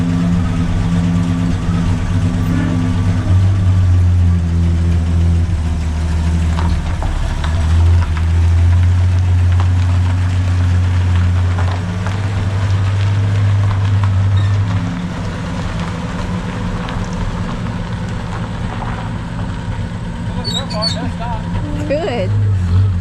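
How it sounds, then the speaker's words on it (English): A 1949 Chevrolet Deluxe left parked for years drives around a yard, its engine giving a loud, steady low rumble that shifts in pitch as it moves, with people talking over it. "let's go drive this thing around the yard and see if we can stop and go after all this time"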